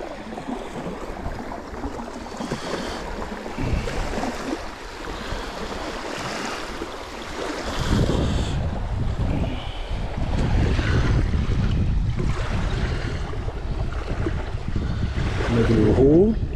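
Baltic Sea water washing onto a beach at Timmendorf on Insel Poel, a continuous surf wash with wind buffeting the microphone that grows louder and fuller halfway through.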